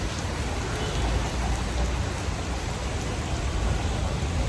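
Rain falls steadily outside a temple, making a dense, even hiss of drops on surfaces that holds at the same loudness throughout with no voices.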